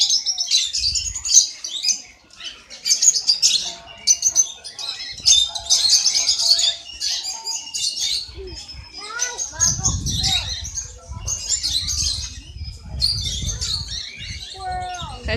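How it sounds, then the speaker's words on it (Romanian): Amazon parrots at a zoo let out repeated shrill squawks and whistling calls close by, while children talk and chatter underneath throughout. "Acesta ce este? Papagal amazon."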